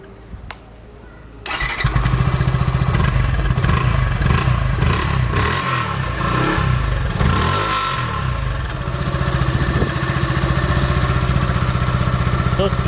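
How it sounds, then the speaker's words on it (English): A Yamaha FZ-S V3.0 150cc motorcycle starts after a brief quiet moment, then settles into a steady, close, loud idle with a slightly uneven exhaust pulse that continues alone to the end. "Now I'm going to show you the exhaust note."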